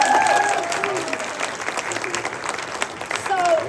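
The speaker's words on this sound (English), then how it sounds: "So please, give her a big round of applause." Applause from the audience at a leadership training event rises loudly at the start, then settles into a sustained patter of many hands. Faint voices and a few brief tones sit underneath.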